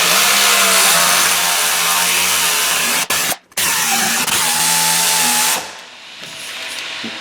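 A Sawzall reciprocating saw grinds loudly and continuously into a rusted bolt on a Subaru rear wheel bearing assembly, cutting out briefly midway, then resuming before dropping to a quieter idle hum.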